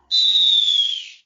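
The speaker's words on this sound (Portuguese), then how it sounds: "Apito final no Boleirando de hoje." A referee's final whistle sounds as a single loud, clean, shrill blast lasting about a second and then cutting off, alone with nothing behind it.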